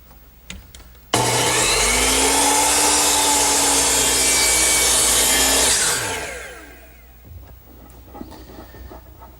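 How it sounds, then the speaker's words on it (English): A hand saw cuts wood molding at a 45-degree angle in a miter box, making a loud, close, steady rasping stroke that runs unbroken for about five seconds and then fades out, with faint knocks before and after. "I turn my saw to 45 degrees and cut the angle"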